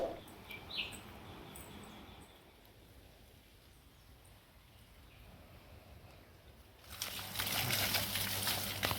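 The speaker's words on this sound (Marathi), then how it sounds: "आमच्याकडे पाणी बघा बोरिंगचा" Water from a borewell starts gushing loudly and steadily near the end, after a long quiet outdoor stretch where birds chirp faintly.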